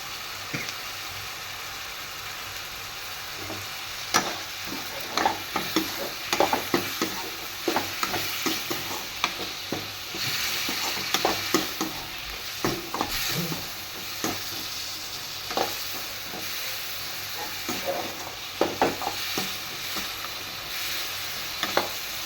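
Pulao being stirred and sautéed in a pan, with a steady sizzle of frying under scattered scraping and clinking strokes of a spoon against the pan, close and continuous throughout, no talking.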